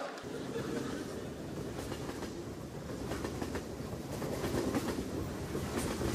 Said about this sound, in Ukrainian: Поїзд Житомир-Одеса, плацкарт.